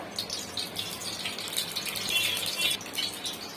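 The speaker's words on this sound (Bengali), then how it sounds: "কড়াইতে আরেকটু সর্ষের তেল দিয়ে দেবো।" Mustard oil being poured into a wok makes a steady, soft liquid trickle with light rattling, continuous and close, with no voices.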